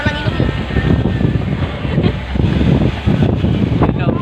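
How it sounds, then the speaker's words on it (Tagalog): Gusty wind buffets the microphone in rough bursts, with faint mechanical hum and indistinct voices in the background. "medyo malakas lang yung hangin"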